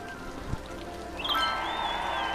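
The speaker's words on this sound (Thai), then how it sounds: "ฝนก็ตก" In the Cities: Skylines video game, rain patters softly beneath a sustained musical tone, a short stretch of light steady rainfall with a small tap near the start.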